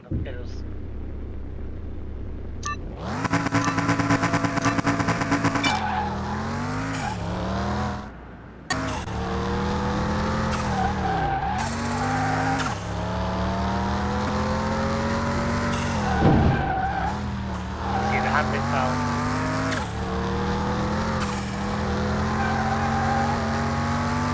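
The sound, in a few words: car driving a fast lap in Car Mechanic Simulator 2021 video game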